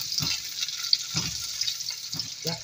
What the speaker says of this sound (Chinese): 就大火煎它1分钟